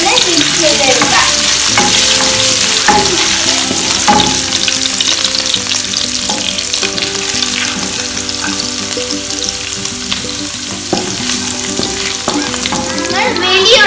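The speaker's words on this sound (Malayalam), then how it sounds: "നമുക്ക് വെളുത്തുള്ളി ആഡ് ചെയ്യാം. അതിനുശേഷം ഇഞ്ചി എന്നിട്ടൊന്ന് മിക്സ് ചെയ്തെടുക്കാം." Garlic and ginger stir-fry with prawns in a hot pan for Thai pineapple fried rice, a loud continuous sizzle with repeated spatula scrapes and clatters throughout.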